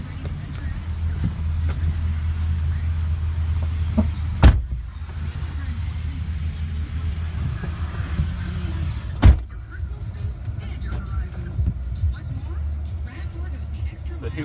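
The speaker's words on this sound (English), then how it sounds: "Power windows, mirrors on the door locks work." Power windows whir in the cab of a 2010 Chevrolet Silverado 2500 crew cab 4x4 with a 6.0 V8, the motor hum sitting under steady cabin noise, punctuated by two sharp thumps as the windows stop.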